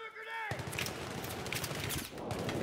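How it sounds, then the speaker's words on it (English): Gunfire in a multiplayer shooter match on the Bazaar map, with loud, rapid bursts of automatic fire and overlapping shots cracking close by for a few seconds. "Who the fuck is shooting me?"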